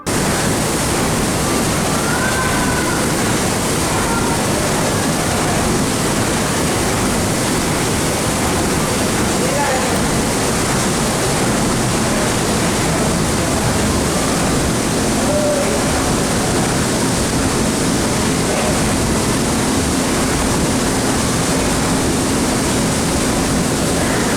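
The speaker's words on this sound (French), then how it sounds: "Regardez ces machines qui n'ont pas un gramme de poussière. Je voulais écouter le vacarme." The diesel-electric engines of a paddle steamer on Lake Geneva give a loud, constant broadband roar that fills the engine room without letup, while faint voices sit buried in the din.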